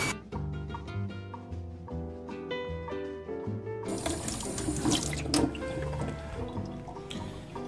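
Cold water runs from a kitchen tap during cooking, a steady close rush of flowing water that follows a stretch of music.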